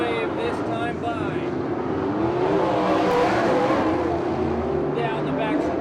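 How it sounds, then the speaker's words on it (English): Open 360/410 sprint cars racing a 35-lap main event at Victorville Raceway Park, a steady loud roar of engines droning past with rising and falling revs, heard from the grandstand under a track announcer's commentary. "Down the back stretch, a lap and a half left of this 35-lap main event for Troy Rutherford."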